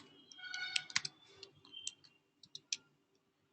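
Code being typed on a computer keyboard, a faint, quiet run of irregular key clicks that thins into sparse taps toward the end.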